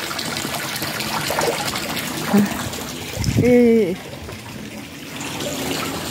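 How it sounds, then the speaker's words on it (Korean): Water flows and trickles steadily beside a pond with a fountain and carp at the Cheonghae harbor film set, heard close up with a voice briefly over it. "물소리가 나죠, 이게."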